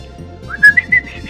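A person attempts to whistle, producing a few short, breathy, wavering notes that rise in pitch, loud and close, over quiet background music from a racing game.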